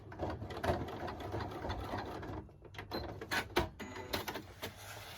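Sewing machine stitching a fabric wallet, quiet close mechanical whirring in short bursts with a pause in the middle, then rapid clicking stitches.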